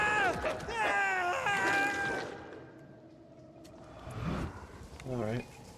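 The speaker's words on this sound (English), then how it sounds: "All of these clips are just someone screaming" Screaming voices from the video game Banishers: Ghosts of New Eden: a few drawn-out, wavering shrieks and wails, loud and close, separated by a quieter stretch before two shorter anguished cries.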